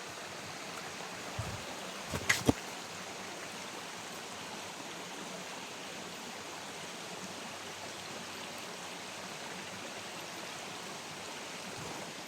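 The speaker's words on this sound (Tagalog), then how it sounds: "May sapa dyan. Ito din yung sapa mga tola." A creek flows steadily nearby in a quiet, deserted area, its broadband rushing water unbroken from start to finish, with a few faint knocks early on.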